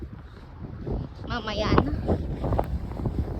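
Strong wind roars and buffets the microphone at Niagara Falls, Canada, during a midnight snowstorm, a rough, rising rumble with a brief spoken remark over it.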